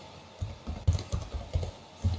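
Someone types on a computer keyboard with a quick, uneven run of close, soft key clicks and thumps over a faint room hiss.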